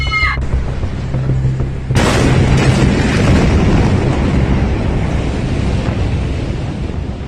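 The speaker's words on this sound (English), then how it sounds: "an explosion ripped through Beirut's port" Powerful port explosion in Beirut in August 2020, arriving as a sudden loud broadband blast about two seconds in and rolling on as a sustained roar, preceded by a brief wind-buffeted lead-in.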